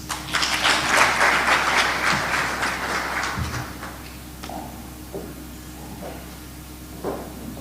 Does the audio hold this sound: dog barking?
no